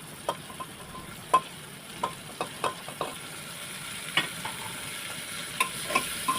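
Tomato and onion fry in oil while a spatula stirs them, a soft steady sizzle broken by sharp clicking scrapes and taps at an irregular pace, close by with no talking.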